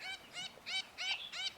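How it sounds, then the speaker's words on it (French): Mauritius parakeet, a green-plumaged bird, giving five loud harsh squawking calls in a steady rhythm, close and alone with no talk. "comme la perruche de Maurice, au beau plumage vert"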